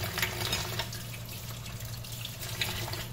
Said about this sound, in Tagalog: Hugasan natin.